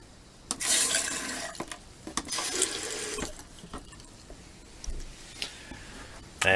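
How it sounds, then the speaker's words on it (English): Water runs from the tap into a bathroom sink in a 26-foot travel trailer, a steady splashing stream that comes and goes in bursts with clatter and handling noises between, close by and fairly quiet with no talk. "Bathroom sink."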